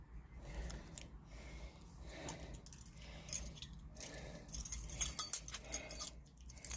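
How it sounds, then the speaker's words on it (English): Keys jingle and clink in short, irregular bursts close by, light metallic rattles that grow busier toward the end, with no talking over them. "if you want to know what the chingling is, it's my keys"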